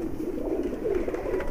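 High flyer pigeons coo softly in a low, throaty, continuous murmur, close by and alone, for a brief stretch.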